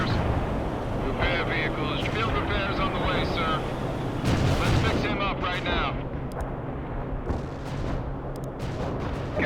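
Artillery barrages rumble and crack through a World in Conflict battle, a dense, continuous wash of heavy firing and booms with brief radio chatter and voices over the top.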